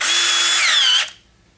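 A power drill fitted with a 5/32 bit grinds into a rivet, a steady close whine that holds for about a second, dips slightly in pitch, then cuts off into quiet.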